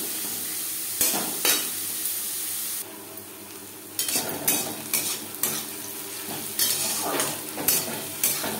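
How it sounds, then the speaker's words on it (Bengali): Onions and green chilies fry in hot oil for a Bengali-style red amaranth (lal shak) dish, a steady sizzle broken by several loud bursts of stirring and scraping. A brief quieter stretch falls midway, and no one speaks. "পেঁয়াজ লালচে করে ভেজে নেব।"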